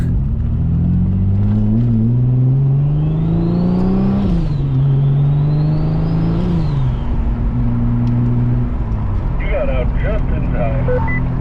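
A turbocharged Oldsmobile Cutlass station wagon pulls away and accelerates, its engine note rising and falling through the gears with a faint turbo whine above it. The loud interior or close-up drone continues steadily, and a voice is heard briefly near the end.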